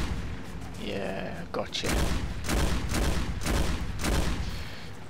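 Rapid bursts of gunfire from the game Battlefield Heroes, repeated heavy volleys in regular pulses after a short lull, loud and near, with someone briefly speaking over the start.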